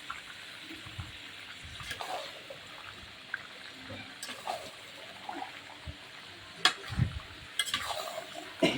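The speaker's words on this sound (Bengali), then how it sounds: "এবার আলুগুলো দিয়ে একটু কষিয়ে নেব" Chicken and potatoes with spices are stirred in a pan, giving soft scrapes and clinks in irregular bursts over a quiet, faint background sizzle.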